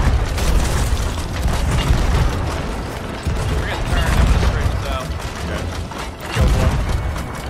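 Cannon fire in the pirate video game Sea of Thieves during an arena tournament match: repeated heavy booms and bursts over dense, continuous battle noise, with mechanical clanks between shots.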